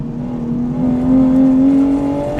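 A Toyota GR Supra accelerates on the Laguna Seca track with traction control off, giving a steady, loud engine drone that rises slightly in pitch, heard from inside the car with no talking.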